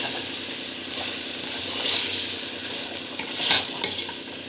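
Country chicken curry with turmeric stirred and sautéing in a pan: a steady, close sizzle with scraping stirs that swell in brief bursts, no voices.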